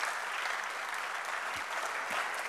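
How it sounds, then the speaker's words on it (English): Steady applause from an audience at a public lecture for departing panelists, a continuous even wash of clapping at moderate level throughout the short stretch. "give them another round of applause as we leave the panel"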